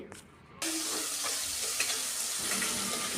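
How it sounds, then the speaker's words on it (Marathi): Chopped tomatoes with a pinch of salt hit a hot pan and sizzle loudly, with stirring as they sauté, after a short quiet moment at the start. "टोमॅटो हा दोन मिनटं परतून घेते"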